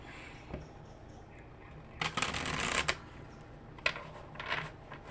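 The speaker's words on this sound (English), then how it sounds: "Okay, one more shuffle." Tarot cards are riffled in a quiet indoor setting: a faint tap, then a rapid fluttering shuffle lasting about a second, followed by a couple of softer card snaps.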